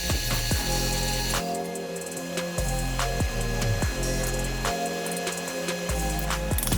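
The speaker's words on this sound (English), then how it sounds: "Now to our upright belt sander, just to knock the edges off." An upright belt sander rounds and smooths the edges of squat rack pieces, running as a steady loud mechanical whir broken by repeated short grinding contacts.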